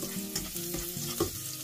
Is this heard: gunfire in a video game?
no